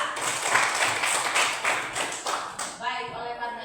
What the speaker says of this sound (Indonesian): Mari kita tepuk tangan untuk Dila.